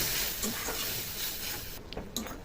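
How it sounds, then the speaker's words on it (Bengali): Spice masala with chilli powder and a splash of water cooks in a pan for a prawn and taro curry, giving a steady close sizzle and hiss broken by a few scraping stirs. "সামান্য জল দিয়ে দেবো। মশলাটাকে সুন্দর করে কষিয়ে নেব।"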